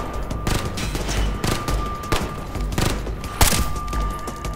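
Automatic and rifle gunfire in the shooter game Ghost Recon: Future Soldier, rapid overlapping bursts of shots with sharp cracks and thuds, loud and close, with a steady tone running underneath.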